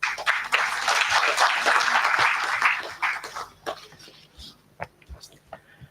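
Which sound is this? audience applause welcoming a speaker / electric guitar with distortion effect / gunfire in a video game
audience applause welcoming a speaker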